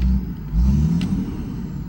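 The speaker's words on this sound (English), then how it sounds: "Let's give it a little bit of throttle since it's already warmed up." A warmed-up 1950s Chevy van engine revs under light throttle, a close, loud low rumble swelling in two short surges before settling back to a steady idle, with no voices.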